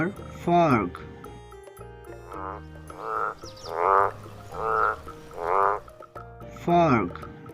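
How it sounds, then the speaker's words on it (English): A frog croaks in a steady series of loud, rasping, pulsed calls about a second apart, close up and repeated over a gentle music bed, with a brief vocal sound at the start and end. "F for frog."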